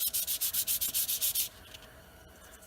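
Vacuum pump parts from a Dodge Cummins are sanded lightly by hand with 400 grit sandpaper in about ten quick, rhythmic rasping strokes, close and crisp, then the sanding stops and only faint handling noise remains.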